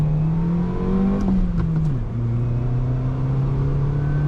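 A 2003 Toyota Yaris with a 1.3-litre, 86 hp engine drives fast on a motorway. From inside the cabin, a steady, loud engine drone and road rumble hold throughout, with a brief dip in pitch midway before settling back.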